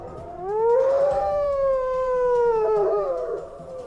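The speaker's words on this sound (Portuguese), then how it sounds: "os uivos cortando a noite" An animal circling a cabin at night lets out a single long, loud, wavering howl that rises, holds and then trails off, close and clear over a low background rumble.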